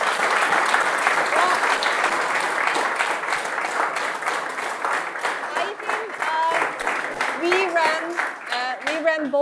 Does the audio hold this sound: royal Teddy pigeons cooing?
no